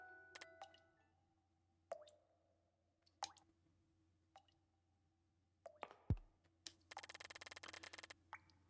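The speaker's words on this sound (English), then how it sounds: "Murky dark water drips endlessly from beneath the frame of the painting." Murky water drips steadily from beneath a painting's frame in a dark game scene, a few sparse, close plops spaced seconds apart, followed by a louder splash and a rapid rattling burst.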